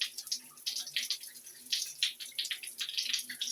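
Water from a newly installed rain shower head patters and splashes in irregular bursts, fairly close and moderately loud, with no voices over the spray.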